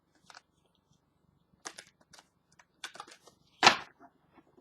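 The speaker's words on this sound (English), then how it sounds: "So I am shuffling." Tarot cards shuffled by hand during a love reading, giving a few sparse papery riffles and flicks, with one louder burst near the end, close and quiet, no voices.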